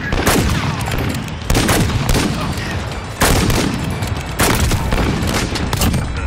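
Rapid automatic gunfire from M4 and MP5 rifles in an online shooter game, loud and close, coming in dense bursts separated by brief gaps and heavy booming reports.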